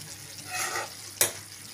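Broad beans frying in a pan are stirred, giving a soft sizzle that swells briefly and is then cut by a sharp scrape of the spoon against the pan.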